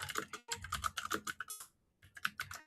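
Fast, crisp clicking of a computer keyboard, a dense run of keystrokes close to the microphone, a brief pause, then another burst, with no talking.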